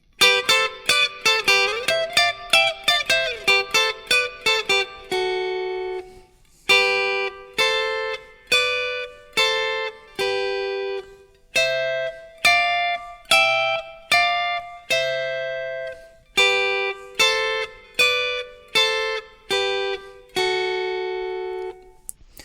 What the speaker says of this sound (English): So thirds are going to sound like this when you play double stops.